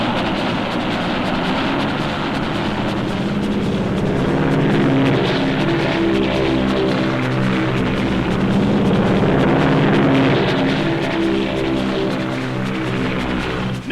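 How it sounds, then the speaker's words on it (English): Wartime navy planes and army bombers roar overhead in a dense, continuous engine drone that swells and throbs steadily, loud and unbroken. "Navy planes roared from the decks of our carriers."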